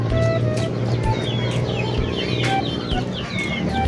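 A pure white Kelso stag and other chickens clucking close by: rapid, overlapping short clucks and chirps over a steady low hum.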